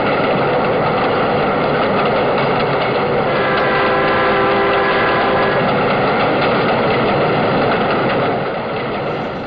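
A train heard from inside a moving carriage makes a loud, steady rumbling roar with faint rhythmic rail clatter throughout, and no voices.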